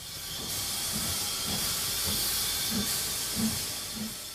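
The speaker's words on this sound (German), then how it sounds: "Diesmal ist es eine Dampflok, die den Berg bestiegen hat." Snowdon Mountain Railway steam locomotive, a Swiss-built rack engine, gives a steady broad hiss of steam with faint rhythmic chuffs underneath, continuous and moderately distant.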